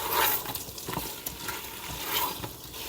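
Beef and vegetables sautéing in an Instant Pot for beef vegetable soup, a steady soft sizzle with faint scraping stir sounds running through, fairly close and quiet, with no voices.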